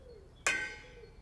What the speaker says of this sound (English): doesn't ring quite like the other one